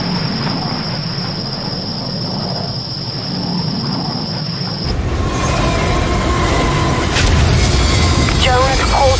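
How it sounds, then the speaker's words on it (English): A rumbling train from the game IGI 1 grows louder midway, with a metallic rolling clatter and brief squealing, after a steady lower drone and a high whine; voices call out during the stretch. "Stop that train!"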